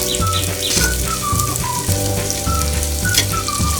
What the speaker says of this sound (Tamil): நல்லா பொன்னிறமாக வதங்கிட்டு இருக்கு